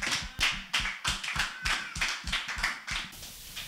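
A church congregation claps together in strong, rapid rhythmic bursts, loud and close, with no voices over the applause.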